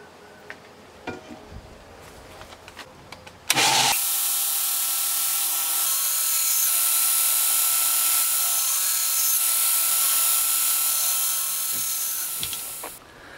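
A knife edge ground on a 60-grit ceramic abrasive belt while blade making; after a few soft knocks, a loud, harsh, steady grinding whine starts and runs unbroken for about ten seconds before cutting off.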